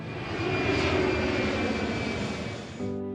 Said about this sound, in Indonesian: Pesawat pun telah terbang, meninggalkan landasan dengan tenang menuju langit biru.